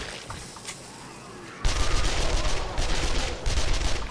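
Gunfire from the 7 Days to Die video game, starting as faint scattered shots and then becoming a dense, continuous volley of rapid shooting that carries on to the end.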